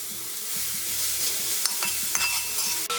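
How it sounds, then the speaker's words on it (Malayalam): Finely chopped ginger is stirred in a frying pan over a loud, constant sizzle, with occasional utensil scrapes and taps against the pan. "നമ്മൾ ചെറുതായിട്ട് അരിഞ്ഞു വെച്ചിരിക്കുന്ന ഇഞ്ചി ഇതിലേക്കിട്ട് ഇളക്കി കൊടുക്കാം"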